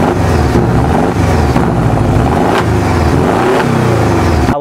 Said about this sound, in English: this sports exhaust on the back does sound very flavorful